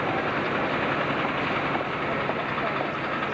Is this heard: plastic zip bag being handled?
no